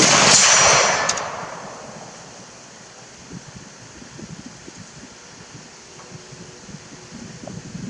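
Albanian SKS rifle fired at a 100-yard range outdoors: one loud, sharp shot opens the clip and rings off over the first second, then quiet wind and faint rustling fill the rest.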